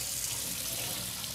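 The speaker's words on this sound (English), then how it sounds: "Now we rinse the potatoes and season." Steady tap water runs into a kitchen sink while shredded potatoes are rinsed, a constant close hiss and splash with no pauses and no voices.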